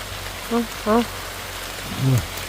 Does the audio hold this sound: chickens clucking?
no